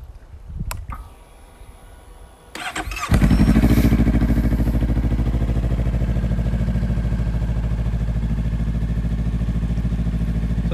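A 2018 Honda CMX500 Rebel with an aftermarket exhaust cranks briefly, fires up and settles into a loud, steady, close idle with an even thumping beat.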